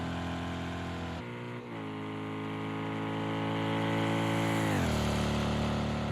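A GTE race car at Le Mans accelerating hard out of a corner, its engine note rising in pitch and getting louder as the driver stays on the throttle, loud and close, alone with no commentary over it.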